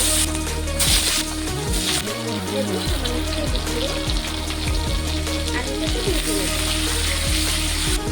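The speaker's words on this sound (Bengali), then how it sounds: "মাছটা ভাজা হয়ে গেছে, ওই তেলেই আমি আলুটাকে ভেজে নেব।" Potatoes frying in oil left over from frying fish, a loud, dense, continuous sizzle close up, with a few low knocks and clatters early on and no speech.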